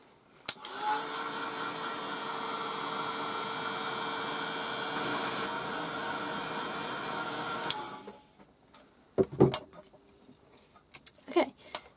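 A heat tool blows hot air across sparkly ink on a craft card, a steady, close whirring hiss for several seconds that cuts off abruptly, followed by a few soft handling clicks.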